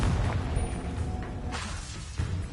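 A Confringo fire spell explodes in Hogwarts Legacy, a deep booming blast that rumbles on with a sweeping whoosh and a second low thump near the end, no talk.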